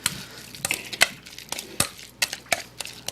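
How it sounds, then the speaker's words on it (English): A pastry blender mashes food in a bowl, making a string of sharp clacks and scraping thuds at an uneven pace, heard close and alone. "And I'm just using a pastry blender here."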